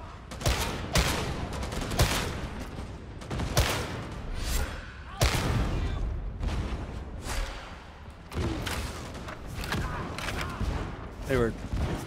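Gunfire in the video game Warhammer 40000 Darktide on Damnation difficulty: repeated loud, sharp shots and bursts of automatic fire with heavy thuds throughout, mixed with chaotic combat noise and voices.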